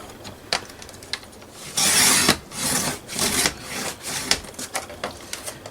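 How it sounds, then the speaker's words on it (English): Craft paper cut down to a one-inch strip for the spine of a mini accordion puppy album, heard as several close, scratchy cutting strokes in short bursts with quiet pauses between them. "So I'm going to go and cut this piece here at 1 inch."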